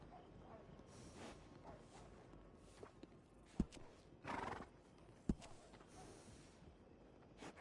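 A horse in Red Dead Redemption 2 snorts and whinnies softly amid clip-clopping hooves in a quiet town, with a couple of sharp clicks and a brief louder burst partway through.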